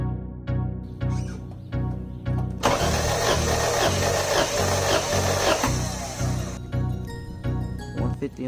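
A Honda H22 engine cranks over on the starter during a compression test, a rhythmic, repeated churning with a louder stretch in the middle, heard close with voices talking over parts of it.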